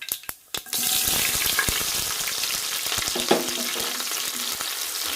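A few sharp pops and crackles as mustard seeds and fennel finish spluttering, then a steady loud sizzle as sliced onions fry in hot oil, with occasional stirring clicks, close up.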